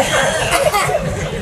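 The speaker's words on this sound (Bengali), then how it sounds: "কাশি দেওয়া লাগবে?" Coughs ring out from a crowd at an Islamic religious lecture, several short bursts mixed with light chuckling, loud and close.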